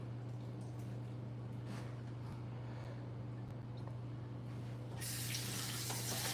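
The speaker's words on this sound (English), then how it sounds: "I'm going to wash this cup again." Tap water running while a cup is washed in a kitchen sink, a soft continuous splashing flow under a steady low hum, growing brighter and louder near the end.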